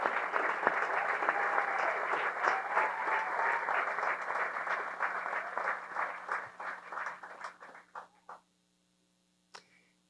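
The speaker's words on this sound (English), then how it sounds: "How about a round of applause for Laura Schwent?" Banquet audience at a golf awards dinner applauding an honoree, steady full clapping from many hands that thins into scattered claps and fades to silence, with a last few isolated claps at the end.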